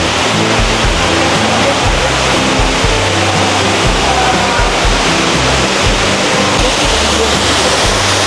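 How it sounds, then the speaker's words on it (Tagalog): A waterfall at the Singapore Cloud Forest pours in a steady, loud broadband roar that fills the whole stretch without pause, with faint voices of visitors underneath. "There's a waterfall view here."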